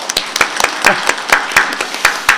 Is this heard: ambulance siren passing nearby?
no